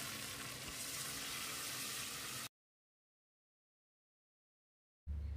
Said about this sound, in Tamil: இதை போட்டு மசிகிற அளவுக்கு வதக்கிடலாம்.